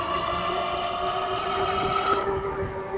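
Front and rear hub motors on an electric bike with a 20x4-inch front wheel whine steadily as the bike accelerates, the motor tone rising slightly over road rumble before the high hiss cuts out.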